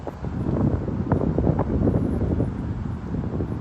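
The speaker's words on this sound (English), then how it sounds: "It's very, very windy." Strong gusty wind buffets the microphone at an outdoor lawn bowls green during a mixed fours final, a loud continuous low rumble that rises and falls slightly with no voices.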